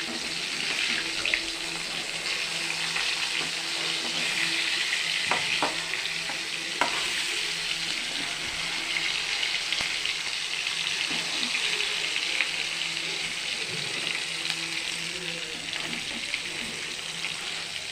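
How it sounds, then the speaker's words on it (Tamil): Marinated fish frying in a pan, a continuous hissing sizzle with a few spatula taps, close and steady, no talking. "எடுத்து சீக்கிரத்தில் பொரித்து சீக்கிரத்தில் சாப்பிட்ருவோம். திருப்பி போடுவோம் மீனை வந்து."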